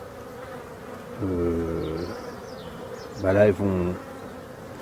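Honeybees buzz at the entrance of a hive on a busy spring day. Two loud, close droning passes rise and fade, and a brief voice is heard.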